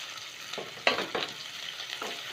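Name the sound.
curry leaves sizzling as they fry in oil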